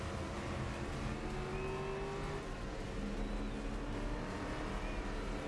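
Firebird muscle car in the GRID Legends racing game, its engine droning steadily and loud throughout with a continuous rough roar and a gear-shift pitch change midway, no talking.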